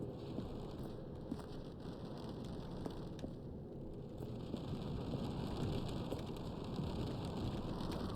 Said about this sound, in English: Still sounds like it's raining.